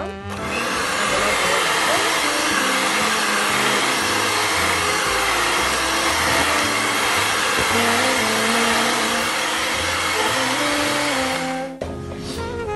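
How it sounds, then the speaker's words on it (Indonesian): A hand mixer beats eggs, sugar and Blue Band margarine for doughnut batter, a loud, steady motor whir with a shifting pitch that runs for most of the span before cutting off near the end. "tunataka kuweka mayai mawili mawili na kuweza kumix na hand mixer yangu hapa."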